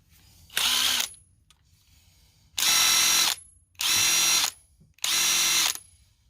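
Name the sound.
Dewalt 12V Xtreme brushless impact wrench running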